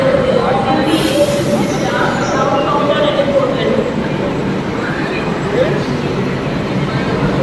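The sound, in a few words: Dakshineswar metro train arriving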